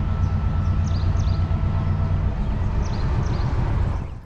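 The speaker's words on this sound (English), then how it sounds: "Here comes our train now!" A Class M6 diesel locomotive arriving with a Sri Lankan train gives a loud, continuous rumble with rattling wagons close by. Faint bird chirps are heard over it, and nobody speaks.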